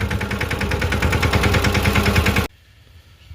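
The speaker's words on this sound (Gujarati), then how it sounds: "આ નવું ટ્રેક્ટર છે એમાં લિફ્ટિંગ કેપેસિટી થોડીક વધારે" A loud, close diesel engine of a new tractor chugs with a fast, even rhythmic knock, then cuts off abruptly, leaving near silence.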